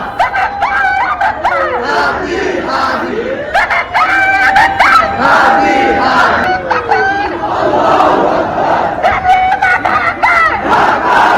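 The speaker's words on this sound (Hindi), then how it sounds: "जितनी ज्यादा संख्या में लोग इकट्ठे हो रहे हैं और नारेबाजी कर रहे हैं" Large crowd at a street protest in Bangladesh chanting slogans loudly in rhythmic waves, with shouted call-and-response bursts and raised voices filling the whole stretch.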